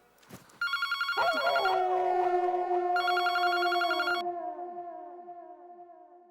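An old-fashioned telephone bell rings loudly in two bursts, each trailing off into a long ringing decay.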